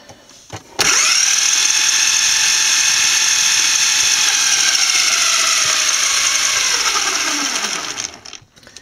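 Electric RC car with steering wheel and pedal controls at full throttle shifting through gears, a loud sustained high whine that rises, holds steady for several seconds, then falls away as it winds down.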